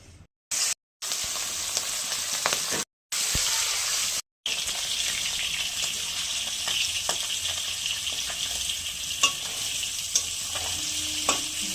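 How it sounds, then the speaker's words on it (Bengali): Hilsa fish fry in mustard oil in a pan, with a steady close sizzle and crackle broken by a few abrupt cuts and occasional sharp pops of spitting oil. "মাছ ভাজা হয়ে গেছে"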